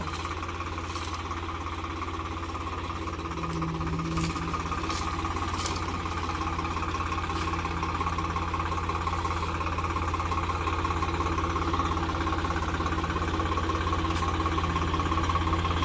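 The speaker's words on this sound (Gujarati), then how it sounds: "પાછળ ટ્રેક્ટર આવેલું છે" A low tractor engine idles steadily for the whole stretch, a constant rumbling hum with a slight knocking vibration and no talk.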